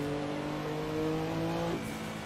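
A Porsche 962 racing engine in Assetto Corsa, driven at the 1967 Silverstone circuit, holds a steady, buzzing, high-revving drone for about two seconds, loud and close, with no voices.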